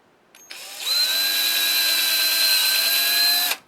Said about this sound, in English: You got to make sure you can get your drill bit in here straight, as perpendicular to everything as you can possibly get it.